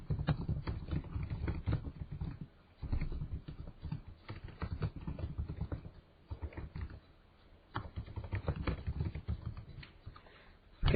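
A computer keyboard clatters in rapid, continuous bursts of key presses, close and fairly loud, broken by a few brief pauses, with a dull muffled tone.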